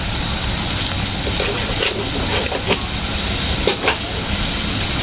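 Onions fry in oil in a kadai for an egg curry, giving a loud, steady close-up sizzle with a few brief spatters and stirring scrapes and no talk.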